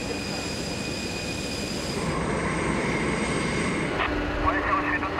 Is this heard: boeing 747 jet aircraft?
yes